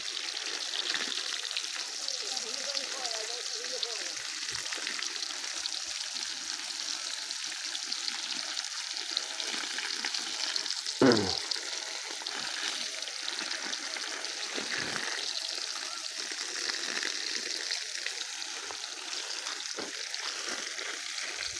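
A DC solar- and battery-powered submersible pump sends water pouring out steadily in a continuous splashing hiss that runs unbroken for the whole stretch, with one brief sharper knock near the middle and no talking.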